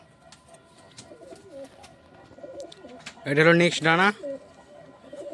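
A brown-eyed fancy pigeon at a pigeon show gives a short, loud, close coo in the middle of a quiet stretch, with someone speaking softly.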